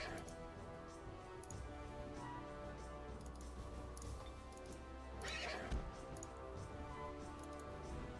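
A fell horse in the strategy video game Age of Wonders III neighing with a shrill whinny over hoof clip-clops and a dense, steady game soundscape, faint and mixed into the background.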